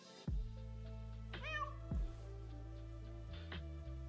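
A cat in a survival video game gives several distinct meows, one rising and wavering, close and clear over a steady low background hum, with no talking.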